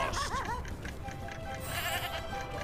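A goat in the Skylanders Giants video game gives a few quick bleats at the start, then more warbling bleats later. The calls sit over a steady wash of game music and effects.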